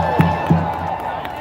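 A crowd at a protest rally in Denver cheers and claps, a sustained, moderately loud wash of noise with a couple of sharp knocks near the start and voices mixed in.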